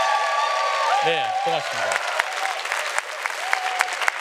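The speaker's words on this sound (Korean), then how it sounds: "박수를 많이 치면은 제가 노래를 해드릴 수도 있습니다." An audience at a talk applauds continuously, with dense clapping running throughout. Someone speaks briefly over the start of the applause.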